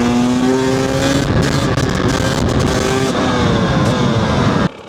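A 2-stroke 300cc motorcycle pulls hard in sixth gear, its loud, steady engine note holding close and continuous with rising harmonic whine before cutting off abruptly near the end.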